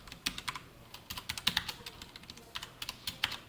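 Java code being typed on a computer keyboard, a quick uneven patter of close, light key clicks with brief pauses between bursts and no talking.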